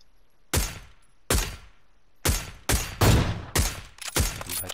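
A series of sharp, loud gunshots in the video game PUBG, about seven bursts at uneven intervals with echoing tails, some overlapping in quick succession, no voices.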